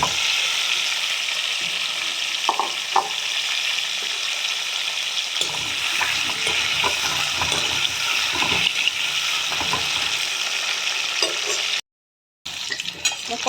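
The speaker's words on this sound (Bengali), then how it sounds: "আলুগুলো আমি ভেজে নেব ভালো করে" Potatoes frying in a pan of oil give a steady, close sizzling hiss with occasional bubbling spurts and faint stirring knocks, briefly cutting out near the end.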